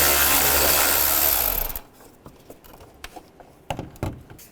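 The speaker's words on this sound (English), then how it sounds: "Take those 2 screws out." A power tool with a T30 socket whirs loudly on screws in the radiator fan shroud of a 2005–10 Volkswagen Jetta, then cuts off and leaves a few sharp clicks and taps.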